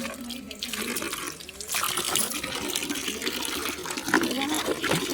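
Running tap water gushes steadily into a sink at an outdoor washing spot as hands are rinsed, a continuous splashing stream with a voice speaking over it.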